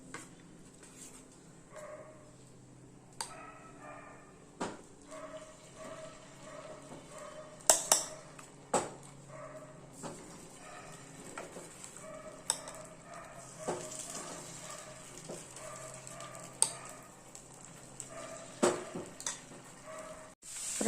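Rava and leftover puffed-rice batter frying in a hot oiled kuzhi paniyaram pan, a soft steady sizzle with scattered sharp clicks and clatters of utensils against the pan throughout.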